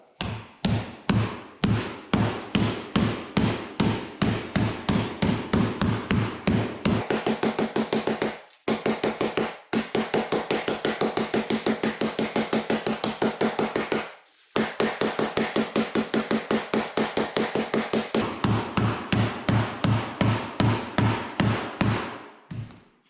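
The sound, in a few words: rubber mallet hammering a copper sheet into a dish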